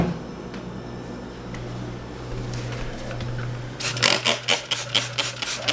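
Rotary sander fitted with a scrub pad instead of sandpaper scours an old linoleum floor coated with Simple Green detergent, a steady machine hum before a close rhythmic series of rasping scrub strokes sets in partway through.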